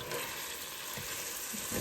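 Turkey chili ingredients with chili powder sizzle quietly in a pot, a soft steady crackling hiss with a few faint stirring knocks.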